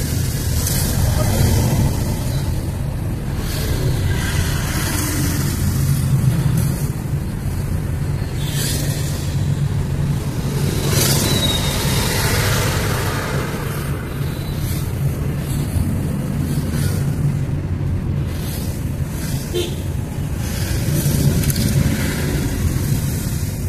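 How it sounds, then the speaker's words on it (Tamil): Steady low rumble of road traffic on the way to Coimbatore with passing vehicles and bikes, continuous and fairly loud, with faint voices now and then. "சரியான டிராஃபிக்காக இருக்குங்க."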